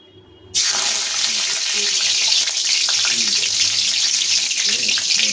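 Curry leaves drop into hot oil in a pan and burst into a loud, steady crackling sizzle that starts abruptly after a brief quiet moment and continues evenly, close up, with no talking.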